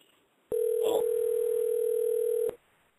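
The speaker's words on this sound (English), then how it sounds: "It's ringing." A steady telephone tone sounds for about two seconds, loud and continuous, with a brief rustle partway through.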